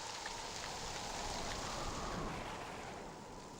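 Steady rain falls in a continuous, broad hiss of drops, moderately loud and unbroken, easing slightly toward the end, with no talking.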